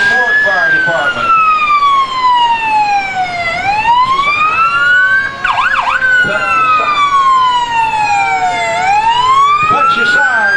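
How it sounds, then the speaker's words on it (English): A fire engine's siren at a New Haven parade wails loudly and continuously in long rising and falling sweeps, with quick yelping bursts partway through, close by and dominating the scene. "Cut your siren there, Dean. Lay off your siren."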